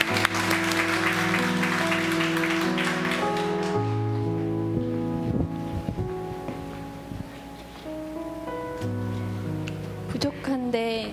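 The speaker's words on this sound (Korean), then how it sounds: "박수로 맞이해 주십시오." A church congregation applauds to welcome a mother coming forward to give her testimony at an infant baptism; a steady patter of clapping sits under loud, sustained keyboard or organ chords that continue throughout.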